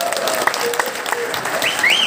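A crowd at a youth movement gathering applauds steadily, a dense wash of clapping with faint cheers and whistle-like calls rising near the end.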